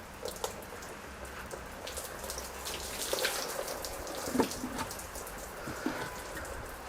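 Water sheeting and running off a waxed car panel, a soft continuous patter and trickle with scattered droplet splashes, close and fairly quiet throughout.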